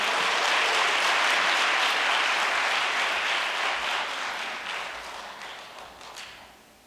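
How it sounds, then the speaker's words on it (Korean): Welcoming applause from a large audience at a New Year prayer meeting, dense and loud at first, then gradually fading toward the end with no talking. "큰 환영의 박수로 단으로 모시겠습니다"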